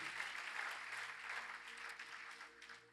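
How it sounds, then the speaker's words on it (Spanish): Church congregation applauding together, a dense, steady wash of clapping that fills the whole moment and slowly thins toward the end. "Un aplauso al Señor, pues qué bendición y qué sorpresa tan linda"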